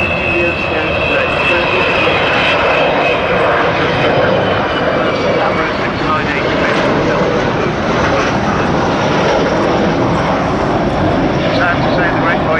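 Avro Vulcan jet bomber flying past at an air show in Bournemouth, a loud continuous roaring jet rumble that fills the whole stretch, with a faint high whine riding on top.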